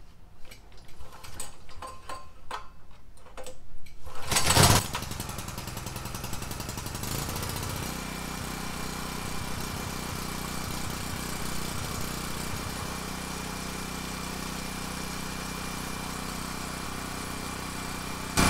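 A Sportsman 4000 portable generator is pull-started with a sharp burst of cranking and catch. Its small gasoline engine then settles into a loud, steady run that continues to the end.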